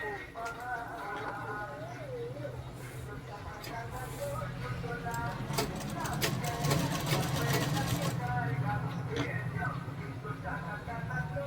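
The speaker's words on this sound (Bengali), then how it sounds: "সবগুলো এইভাবে আমি প্রথমে সেলাই করে নিচ্ছি।" A sewing machine stitches fabric pieces for a new Lotkon design, its steady mechanical whir running throughout with a voice faintly audible beneath.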